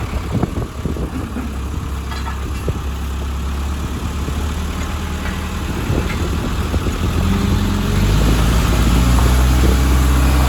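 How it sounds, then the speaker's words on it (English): A JLG SkyTrak 8042 telehandler pushing into a dirt pile with its tires spinning, giving a loud, steady low diesel engine roar that builds slightly toward the end, with no talking. "See, all those tires are spinning."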